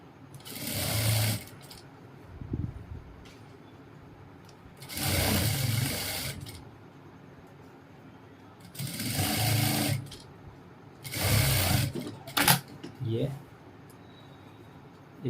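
Sewing machine stitching a belt onto ladies' pants, running in four loud bursts of rapid buzzing stitches separated by quiet pauses, close and clear, with a brief clunk near the end.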